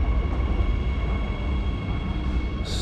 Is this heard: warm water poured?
no